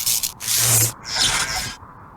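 A wind sound effect for a hammer lightning animation comes as two loud, breathy rushing gusts separated by a short gap, then cuts off to near silence.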